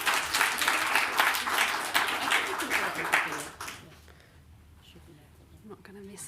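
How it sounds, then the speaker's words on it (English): An audience at a symposium applauds a speaker, a lively burst of many hands clapping for about four seconds before dying away into quiet room tone and a voice starting to speak. "let's give Ellie a round of applause"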